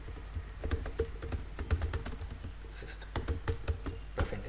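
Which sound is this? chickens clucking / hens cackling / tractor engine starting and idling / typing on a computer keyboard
typing on a computer keyboard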